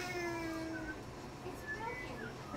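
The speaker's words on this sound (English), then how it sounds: "Oh, it's the kitties." Cats meowing in the video game Majestic, several short plaintive meows at moderate level over a faint ambient background.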